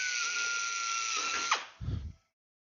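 A power drill whines steadily in a workshop, boring holes in an aluminium airplane flap, then winds down and stops after a brief lower grinding burst; no talk.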